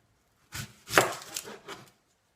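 A kitchen knife chops an onion on a board with a few quick, soft close thuds over about a second and a half, with no talking.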